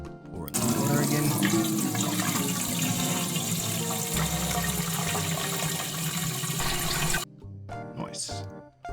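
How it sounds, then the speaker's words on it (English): Water pouring into a brewing vessel in the Beer Manufacture Simulator game, a steady loud gush lasting several seconds before cutting off, followed by brief quieter sounds. "Pour in the water again."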